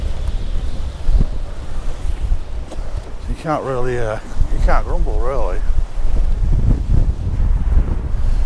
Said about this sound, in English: I know it's real windy and it's blowing an ooly, it's a good 40 mile an hour plus